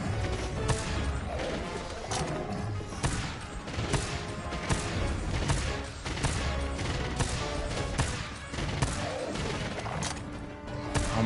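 Monster Hunter World weapon fire aimed at a monster: a loud, steady barrage of rapid repeated shots and heavy impacts, continuing densely for the whole stretch with barely a pause.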